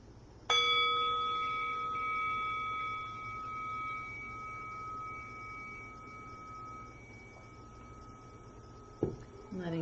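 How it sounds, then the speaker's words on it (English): A single meditation bell struck once, ringing with a clear bright tone that decays slowly over several seconds against a quiet room, followed by a soft knock near the end. "Letting the sound of the bell be an invitation to inquire within."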